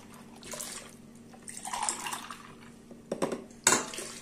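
Milk poured into a pot for profiterole pudding: soft, quiet splashing and trickling in a few bursts, ending with a couple of clinks from a cup against metal.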